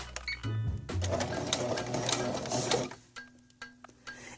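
Sewing machine backstitching at the side seam of a chiffon dress hem, a close rapid mechanical whir of stitching for a few seconds, then stopping with a few soft clicks.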